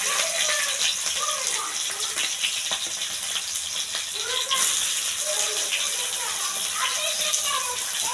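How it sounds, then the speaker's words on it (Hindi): Chopped onion dropped into hot oil with cumin seeds, giving a steady bright sizzle and hiss throughout, with someone speaking over the frying. "अब इसमें प्याज डाल रहे हैं"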